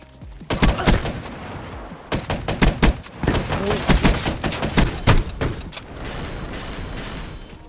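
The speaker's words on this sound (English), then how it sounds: "we're looking at an LMG called the Gorgon" Gorgon light machine gun firing in Black Ops 3, with loud rapid bursts of heavy shots broken by short pauses and mechanical clacks, and faint voice traces between bursts.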